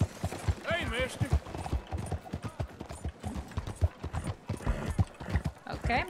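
Horse hooves clip-clop steadily in a video game, an irregular run of hollow knocks mixed with jingling tack and a whinny, under game chatter and voices.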